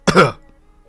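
A single short, close cough that catches in the throat and ends in a brief throat clearing, heard alone with quiet trailing after.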